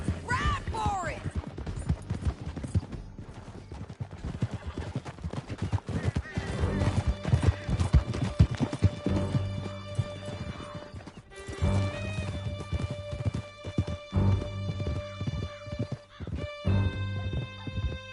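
Horses gallop hard in Red Dead Redemption with a rapid, loud clip-clop of hooves, neighs and whinnies, and scattered crashes as riders flee through a canyon.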